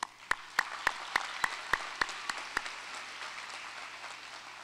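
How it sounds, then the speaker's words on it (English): Scattered claps rise into steady applause from a college graduation ceremony audience, with a row of sharp, evenly spaced claps standing out near the start before fading into a softer crowd patter. "Give them a round of applause."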